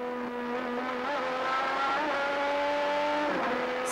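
Onboard a 1987 Honda-powered Formula One car at Spa during the Belgian Grand Prix, the engine holds a high, steady whine near flat out, pitch rising slightly, then a brief dip and recovery, loud and continuous.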